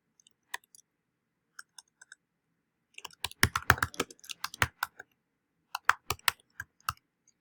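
Computer keyboard typing with sparse isolated clicks at first, then a quick burst of keystrokes and a few more taps, close and fairly quiet with no talking.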